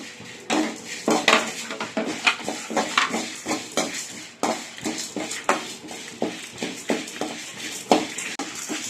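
Fresh curry leaves go into a pan to dry-roast with chillies for a vallarai keerai idli podi, with busy metallic clatter and scraping of a utensil against the pan in irregular close strikes.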